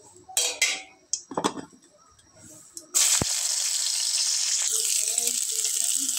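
Onion and garlic hit hot oil in a wok after a few light clinks of kitchenware, setting off a sudden, loud, continuous sizzle that holds steady to the end.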